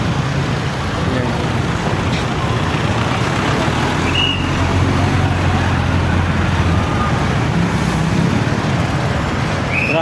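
Evening road traffic in a town in Nabua, Camarines Sur, a loud, continuous rumble of cars and trucks passing nearby with a brief horn-like tone, while someone talks over it.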